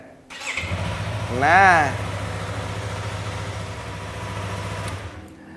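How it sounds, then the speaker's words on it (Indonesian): A used motorcycle's engine cranks and fires, revving briefly before settling into a steady, close idle; a voice speaks briefly at the start. "Gue akan coba dengerin suara mesinnya, ini dia"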